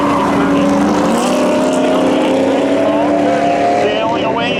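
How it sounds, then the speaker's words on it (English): A drag race car spinning its tires at launch during spectator drags at Seekonk Speedway, a loud, continuous engine howl with rising harmonics under an announcer's excited commentary. "Spins the tires there, Decker."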